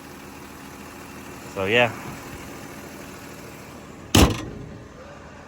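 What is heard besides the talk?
Mercedes Benz C230 engine idling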